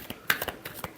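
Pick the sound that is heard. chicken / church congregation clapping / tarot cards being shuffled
tarot cards being shuffled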